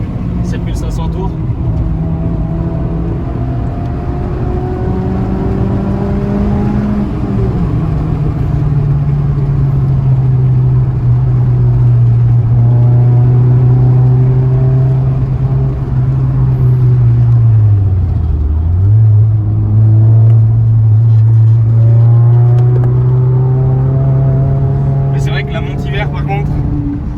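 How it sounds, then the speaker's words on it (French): A Suzuki Swift Sport's engine drones loud and close while driving, its pitch climbing in long steady revs, dropping briefly mid-way, then rising again, with someone talking over it. "Ça monte, ça s'arrête jamais, en fait. Ouais, là, on monte facilement à 7500 tours."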